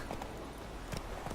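Horse hooves clip-clopping at a quick run in The Witcher 3, a short burst of rhythmic thuds heard close and fairly soft, with no talk.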